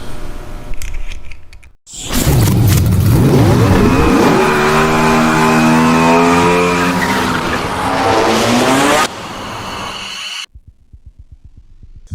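A loud AC Cobra engine revs and roars nearby, tires squealing as it circles, the pitch rising and falling before cutting off abruptly.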